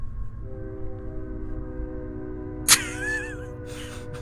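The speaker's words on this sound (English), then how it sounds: "Like hold up, a train coming." A train horn sounds as a train passes, a sustained steady chord that holds for a few seconds over a low rumble, followed by a brief sharp burst and a wavering tone.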